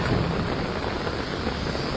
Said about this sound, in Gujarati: જે વરસાદ પડી રહ્યો છે